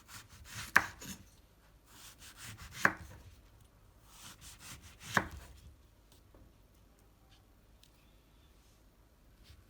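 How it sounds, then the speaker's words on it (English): A knife cuts an orange into small, even pieces, giving three crisp chops spaced about two seconds apart. The chops are close and fairly quiet, with no talking. "How to cut orange number 4 is to cut each piece into small and even pieces."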